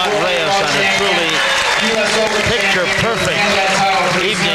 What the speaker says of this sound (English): Great crowd on hand, and they are on their feet to a man, woman, and child to salute the new champion